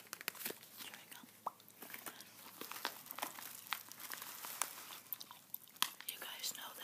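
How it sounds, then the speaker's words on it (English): Soft, close chewing of Orbit gum in a whispered ASMR unboxing, with wet smacks and crinkly clicks scattered steadily throughout, quiet and intimate under faint whispering. "Chewing gum."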